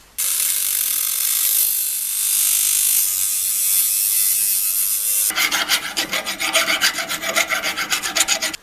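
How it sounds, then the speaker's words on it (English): A metal pop gun barrel from a 1910s toy is cut to length with a hand tool, giving a steady rasping stroke that gives way to a faster, rhythmic sawing rasp in the second half, loud and close. "With the barrel removed from the gun, I can now chop it to length."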